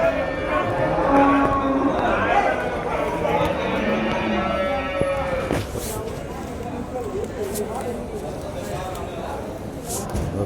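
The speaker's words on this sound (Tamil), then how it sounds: "பெரிய சைஸ் மாடு" Cattle at a busy livestock market in Vaniyambadi, with lowing and moos rising over a crowded background bustle and nearby voices talking throughout.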